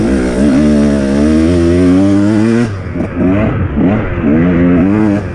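A 2019 Husqvarna TE 150 dirt bike with an adjustable power valve holds a loud, steady high-revving whine up close, then breaks into a string of sharp throttle blips and choppy revs.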